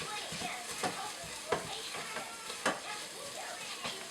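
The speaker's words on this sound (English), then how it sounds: "I'm going to add my eggs back in and break them up a little bit. Stir it around." Eggs and rice stirred in a pressure cooker for fried rice, a steady sizzle with a utensil scraping and clicking against the pot every second or so.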